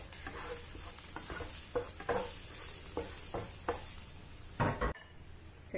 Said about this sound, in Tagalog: I-fry lang natin yan hanggang sa maging brown